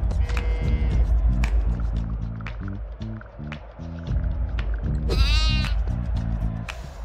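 Cartoonish sheep bleat repeatedly in the video game What the Golf, mixed with plinking game sound effects and a louder quavering bleat near the end.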